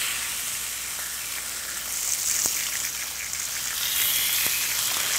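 Meat sears in a heated cast iron pan, giving a steady, bright sizzle and crackle throughout, with a couple of faint pops and no talking.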